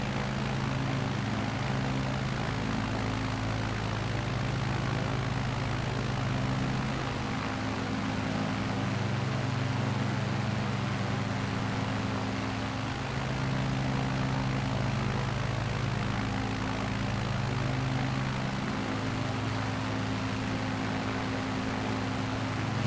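A Piper Cub propeller plane drones steadily through a bush-flying simulator flight, a loud continuous engine hum with rich low harmonics and broadband wind noise, its pitch shifting slightly as power changes, with no talking.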